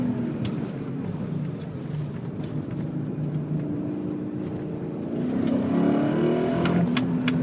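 Engine of a 2001 BMW E39 M5 pulling hard on a twisty road, heard steadily and fairly close, its low drone swelling as it climbs in revs with rising harmonic tones and a louder push near the end.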